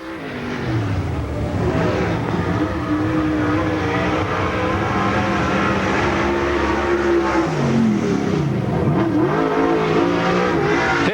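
A race car, the number 48, on track at STARS Challenger Raceway, its engine roaring loud and close, pitch rising and falling through gear changes and corners with some tire squeal, continuous for the whole stretch.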